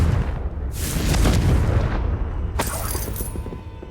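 Confringo fire spell blasting in Hogwarts Legacy, a booming explosive burst with a rushing fiery tail, followed by a second sharp crack and rumble a couple of seconds later.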